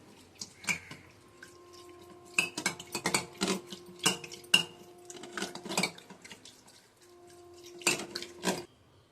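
Curd and water are stirred together with a spoon in a bowl for Mysore bonda batter. Quick clustered metallic clinks and scrapes come in uneven bursts with brief pauses, close and fairly crisp, with no talking.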